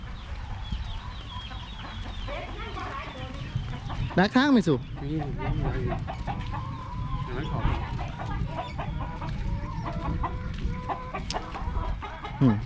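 A man calls farm ducks in rural Roi Et, Thailand, with repeated sing-song calls over steady clucking poultry and outdoor background noise, joined by brief chatter.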